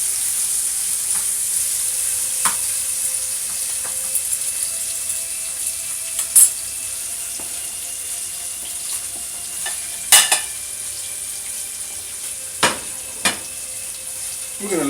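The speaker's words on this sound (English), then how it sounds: "now I'm just sauteing my onions" Onions sautéing in a pan for a homemade chicken dish give a steady, soft sizzle, with a few sharp clinks and scrapes of stirring scattered through it.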